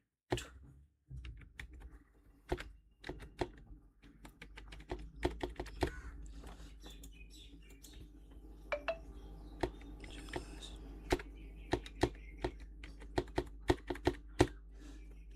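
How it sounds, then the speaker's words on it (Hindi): Keys on a computer keyboard are tapped as an Aadhaar number is entered. The clicks are quiet, close and irregular, with a short sparse start and then denser runs of taps. "इस तरह से हम 2 बार टाइप कर दिए हैं"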